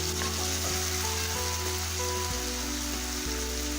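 Cooked tomatoes sizzle and fry in a pan as butter chicken is made, with a steady close hiss and a few faint taps from stirring or adding spices.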